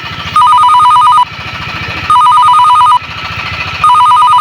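A telephone bell rings in three long bursts separated by short pauses, loud and close, with a low hum underneath.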